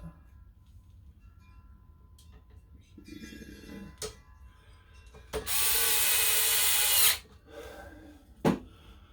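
A power tool drives small screws into an assembly. Faint handling clicks lead up to one loud, steady whir lasting about two seconds, followed by a sharp knock.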